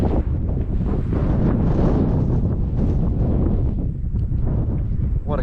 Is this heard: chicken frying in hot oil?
no